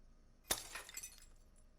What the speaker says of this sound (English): Was that the sound of breaking glass?